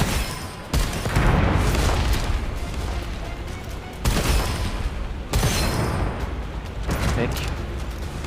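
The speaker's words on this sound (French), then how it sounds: "Une petite grenade" A grenade explodes in the first-person shooter Gunfire Reborn, with several loud booming blasts and bursts of gunfire in quick succession amid dense game noise.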